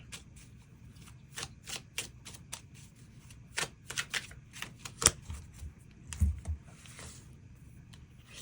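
Extra tarot cards being drawn and handled, a quiet scatter of short papery slaps and flicks at an uneven pace over a low room hum, with no talking.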